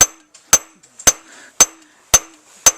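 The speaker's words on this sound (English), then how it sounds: "It takes maybe 15-20 minutes to peen a blade." Hammer peening a scythe blade by cold forging, six sharp metallic strikes at a steady, unhurried rhythm, each ringing briefly before the next, close and clear with no talk.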